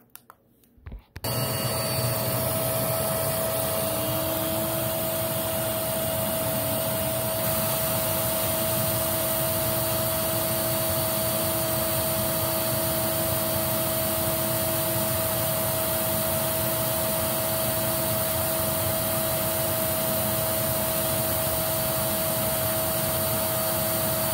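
Filtropur FC F3000 filter fan running steadily for an airflow test, a loud continuous whirring drone with a constant hum, starting abruptly after a brief quiet moment and holding unchanged to the end.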